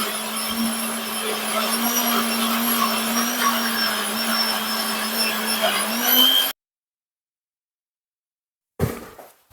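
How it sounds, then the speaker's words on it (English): A blender whirs at a steady high-pitched hum as it purées fermented Scotch bonnet peppers with brine, running loudly and continuously before cutting off abruptly into silence, then a short clunk. "We're gonna put some of the brine over this just to help the blending process."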